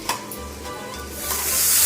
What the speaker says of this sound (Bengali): তেলের মধ্যে একটু গোটা দারচিনি দিয়ে দিচ্ছি